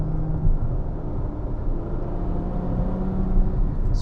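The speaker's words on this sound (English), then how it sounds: "get that lovely acceleration of the V12" The V12 engine of a Ferrari 812 Superfast pulls hard under acceleration, heard from inside the car as a steady, loud, dense rumble that holds without a break and has no talk over it.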